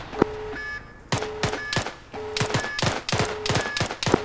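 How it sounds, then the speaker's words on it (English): Rapid, loud bursts of rifle and machine-gun fire crack through an Arma 3 firefight, with several sharp volleys in quick succession and brief electronic beeps between them. "Alright, free fire!"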